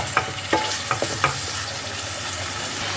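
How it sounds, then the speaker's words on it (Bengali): Yogurt stirred into a sizzling spice mix for navratan korma, a constant frying hiss with a handful of crisp spoon scrapes against the pan early on, then an unbroken sizzle. "টক দই দিয়ে এটাকে আবারও একটু ভালোভাবে মিশিয়ে নিতে হবে।"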